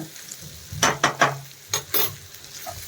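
Boiled eggs with turmeric fry in a pan. A soft sizzle sits underneath several distinct scraping stirs, some close together and some spaced apart.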